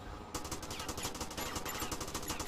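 Rapid automatic gunfire in the video game GTA Vice City, a quick rattling burst of evenly spaced shots starting abruptly and continuing without pause, fairly quiet overall.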